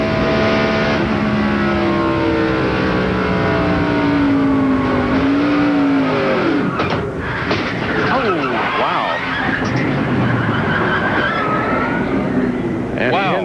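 A NASCAR stock car engine roars from the onboard camera during the 1997 Brickyard 400, loud and continuous with shifting pitch as the car spins in turn three, under a commentator's voice and crowd and track noise.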